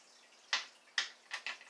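A soft plastic fishing bait hits the water several times: two separate quiet splashes, then a quick pair close together, each a short wet slap that fades fast against a silent background.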